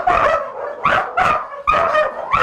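Belgian Malinois dogs in a kennel give repeated loud, sharp barks in bursts of one or two, close by, with brief pauses between them.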